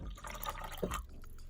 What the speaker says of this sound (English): Also adding about 300 mils of cold water.